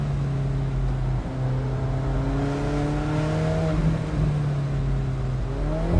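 A 2017 Alfa Romeo 4C Spider sports car engine drones loudly from inside the cabin while driving through turns, its pitch rising and falling steadily as revs climb and shift.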